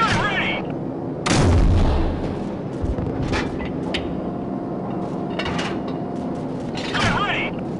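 Air support explosions in Call of Duty 4: Modern Warfare, several heavy booming blasts and rumbling impacts spread across the passage, with radio chatter between them.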